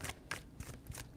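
Tarot cards being shuffled by hand, three quick riffling bursts in close succession, crisp and near, with no talk over them.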